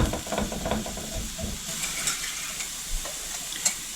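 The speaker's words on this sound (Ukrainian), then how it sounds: "В тій самій сковорідці на тої самої олії обсмажую цибульку." Onions sizzle softly in an oiled frying pan as they are stirred, with a steady frying hiss and occasional light scraping.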